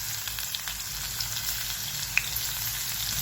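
Cumin and garlic frying in hot oil in a kadhai, a steady close sizzle with a faint crackle and one sharp pop partway through, no voices.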